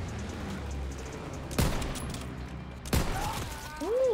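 Sniper fire in an online shooter game: two sharp, loud gunshots about a second and a half apart over a low, quiet background rumble.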